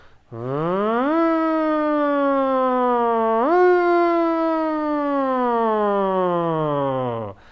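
A single voice hums a long buzzing tone on a V consonant that rises, slips back slightly, then slowly slides downward in a glissando, imitating a siren's sweep.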